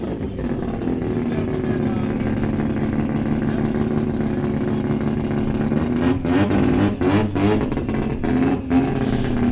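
Drag racing cars launch at Great Lakes Dragaway, their loud engines roaring steadily and then rising into sharp revving surges near the end, with an announcer talking over the noise.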